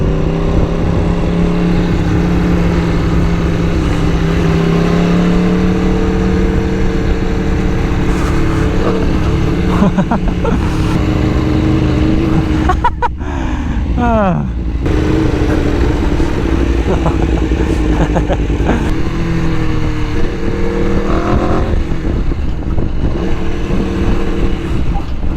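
A motorcycle engine runs continuously in 116-degree heat, a loud, steady drone with shifting revs and wind noise throughout, while a rider talks briefly over it.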